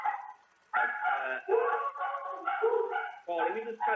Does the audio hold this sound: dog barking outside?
yes